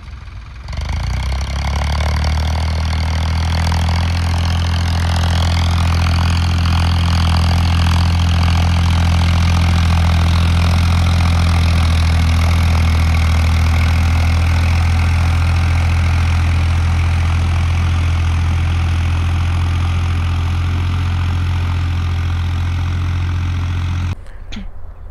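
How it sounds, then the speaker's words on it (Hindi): A Farmtrac 60 tractor's diesel engine runs steadily at idle for about 25 seconds, a loud, continuous low rumble that starts abruptly and cuts off near the end, with no voices over it. "ये फार्म ट्रैक 60 जिसकी हमने अभी आपको परफॉर्मेंस दिखाई थी टीलर के अंदर"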